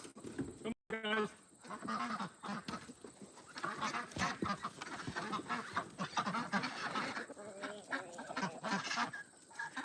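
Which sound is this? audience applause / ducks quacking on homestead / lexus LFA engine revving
ducks quacking on homestead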